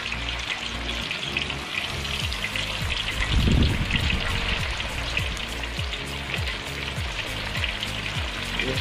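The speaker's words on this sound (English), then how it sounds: "So the alligator gar is frying and we're not gonna bother it." Pieces of alligator gar fry in hot oil with a steady, close crackling sizzle and popping that lasts throughout, with no talking.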